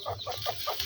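A chicken held for slaughter clucks in a quick, even series of about four soft pulses, faint and fairly close, with no talking.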